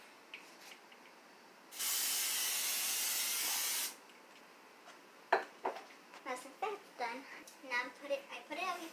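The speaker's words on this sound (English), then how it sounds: "It can be any kind of cooking spray. Oh, okay. Okay, I'm gonna spray." A single steady hiss of cooking spray lasts about two seconds, followed by a child and an adult talking nearby.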